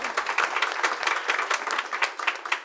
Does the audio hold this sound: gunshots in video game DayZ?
no